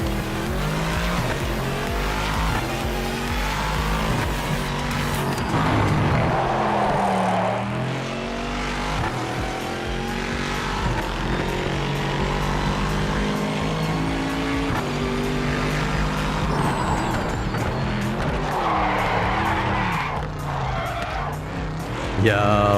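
A race car in a VR racing video game skids and fights for grip on track, its engine droning steadily with tire squeal and sliding tones throughout, a continuous loud mix under which someone talks.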